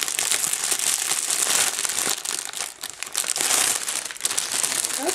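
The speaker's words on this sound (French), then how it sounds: "je vais ouvrir le petit pochon qui est trop mignon" A small gift pouch is opened, with close, continuous crinkling and rustling of packaging and brief pauses between handlings.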